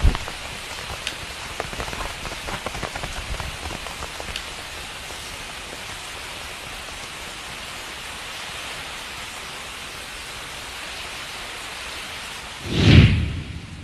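Heavy night rain pours steadily on surfaces, with dense patter and scattered drop hits early on, then a brief rumbling swell near the end, with no one talking.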